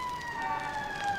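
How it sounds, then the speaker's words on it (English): Police car sirens in a Spider-Man audio drama, steady wailing tones held at a moderate distance across a short stretch, with no talking. "Look, Peter, those police cars are headed toward"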